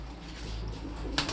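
Pigeons coo softly in a crowded breeding loft, a low steady murmur of calls with a brief rustle near the end, no voices.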